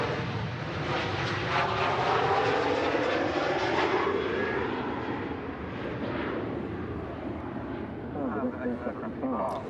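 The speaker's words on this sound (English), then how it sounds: "Tui off to Lanzarote, 737" A Tui Boeing 737 jet takes off at Manchester Airport, a loud sustained engine roar heard from nearby that sweeps in pitch as the aircraft passes, steady throughout with wind noise.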